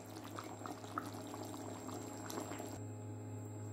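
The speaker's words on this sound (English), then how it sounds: "Nice and bubbling away." Pot of chicken thighs with rice, ginger and vegetables simmering on the stove, a faint steady bubbling and gurgling hiss with soft pops, heard up close and alone under a low background hum.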